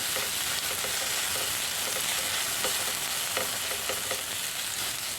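Okra pieces stir-frying uncovered over a low flame in a pan with curry leaves, giving a steady, dense sizzle throughout with faint scrapes from occasional stirring and no talk.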